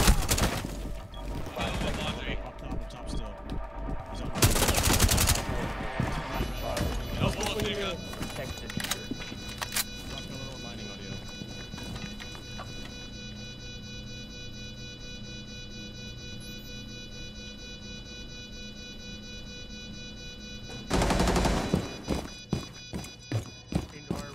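Gunfire in an online multiplayer shooter match, with a loud burst of shots around the five-second mark and another burst near the end. Fainter game sounds fill the middle, and players talk throughout.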